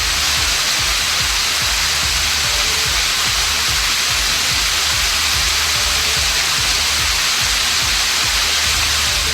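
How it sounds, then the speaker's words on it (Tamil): Heavy rain pours down, with rainwater streaming over the steps of Ratnagiriswarar temple at Ayyarmalai, producing a loud, unbroken hiss and rush of water filling the whole stretch with no voices. "ஐயர்மலை ரத்தினகிரீஸ்வரர் கோவிலில் படிக்கட்டுகளில் மழைநீர் அருவி போல ஓடியது"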